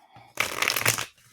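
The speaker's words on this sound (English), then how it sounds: "Do another shuffle, and then we'll get our card." A quick riffle of playing cards being shuffled, an oracle card deck, a brief crisp fluttering burst lasting under a second, close up.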